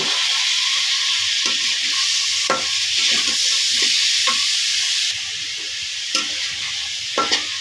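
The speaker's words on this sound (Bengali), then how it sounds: "সবজি এবং ডাল মশলার সাথে ভালোভাবে একটু কষিয়ে নেব।" Vegetables and lentils fry with spices in a hot pan, giving a continuous loud sizzle broken by repeated scraping stirs. No voices are heard.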